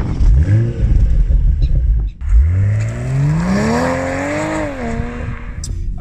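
A BMW Z4 M40i sports car accelerates hard through the gears, its engine note climbing in loud rising sweeps, breaking off briefly at a shift, then pulling up again.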